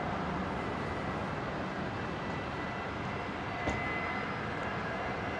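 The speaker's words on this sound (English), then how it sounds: "That's the ATR, isn't it?" ATR turboprop airliner at Brisbane airport, a steady broadband engine roar heard at a distance, continuous and even throughout with no talk.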